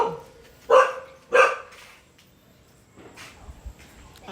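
Two sharp dog barks close by, about half a second apart, followed by quieter background noise and faint rustling.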